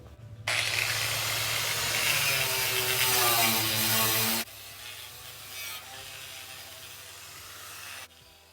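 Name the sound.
wire brush wheel cleaning truck frame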